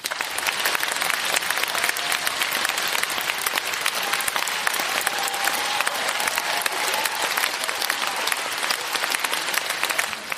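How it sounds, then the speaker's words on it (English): A convention audience claps continuously, a dense, even wash of applause that stays loud and steady throughout with no voices standing out. "Please give him a warm round of applause."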